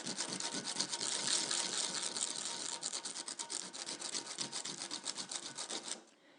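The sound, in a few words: filing metal castings of dock bollards with a file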